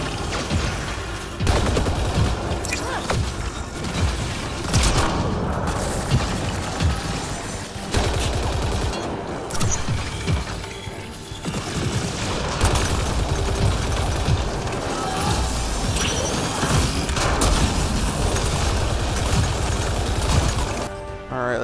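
Gunfire in the video game Mass Effect Andromeda: dense, sustained volleys of rapid automatic shots and cracking impacts, loud and close, with brief lulls and battle noise between bursts.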